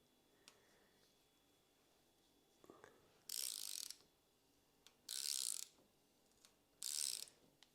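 A torque wrench tightens a crank bolt to 10 newton-metres with three loud, close ratcheting bursts, each about half a second long, set apart by short pauses and faint handling clicks.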